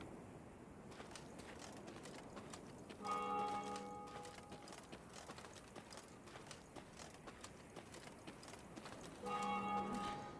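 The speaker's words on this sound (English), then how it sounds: "they heard the bells of a temple to Mother Melitele, situated at some distance" Temple bells of Mother Melitele ring at a distance in the video game Thronebreaker: The Witcher Tales, with two clear bursts of tolling. Horse hooves clip-clop steadily along a high road underneath.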